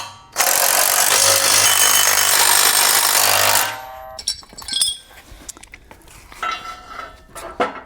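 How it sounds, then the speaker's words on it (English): A power tool with a 3/4-inch socket tightens bolts while a MicroSport off-road trailer is assembled. It gives one loud, continuous whirring burst of about three seconds, followed by a few scattered metallic clinks and knocks. "go ahead and tighten it down with the 3/4-inch socket"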